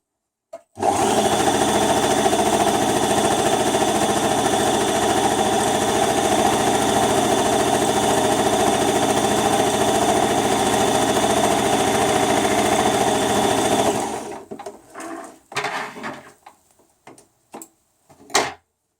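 A sewing machine stitches the edges of fabric for a bag lining, running in one steady, close, buzzing stretch of fast needle strokes, then stopping, followed by a few clicks and handling knocks.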